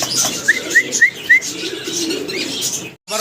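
A pair of black-laced pigeons gives a short run of soft, close coos and chirpy notes, followed by a brief bump near the end.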